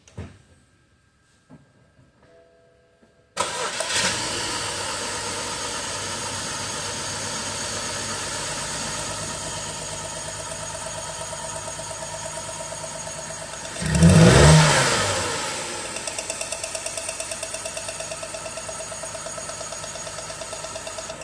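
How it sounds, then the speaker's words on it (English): A car engine undergoing a clogged catalytic converter test cranks and catches after a few seconds of quiet, settles into a steady idle, surges in one brief rev, then drops back to idling. "crank it over and get it idling."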